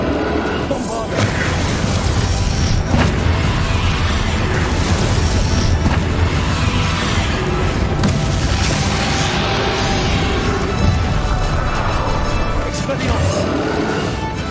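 Bombardo spell blasts boom and crash in Hogwarts Legacy amid continuous loud combat noise, with repeated heavy impacts and speech over the action.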